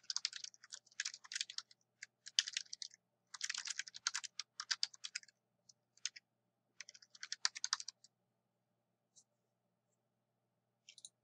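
Fingers type quickly on a computer keyboard in bursts of soft clicking keystrokes with short pauses between them, close and quiet against a silent background, with no voice over it.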